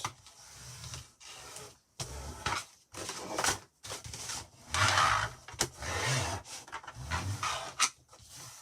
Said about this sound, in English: I'm just going to burnish that.